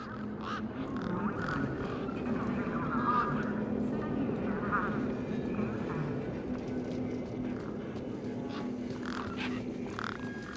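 Aggressive birds honk and squawk in repeated, uneven bursts around a truck in the Beyond a Steel Sky video game, sitting under a steady hum of background noise with a voice talking over them.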